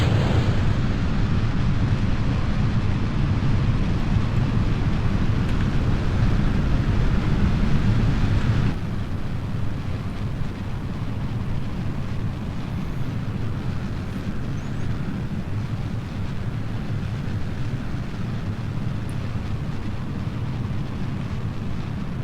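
Rocket engines roar at launch in Kerbal Space Program, a steady broad rumbling thrust that runs unbroken and loud, dropping slightly in level partway through.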